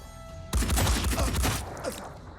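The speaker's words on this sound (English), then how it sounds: "He's actually just firing at my sniper." Gunfire from an enemy in the video game Blood and Titanium bursts in suddenly after a quiet half-second, a dense rattling volley that stays loud before tapering slightly.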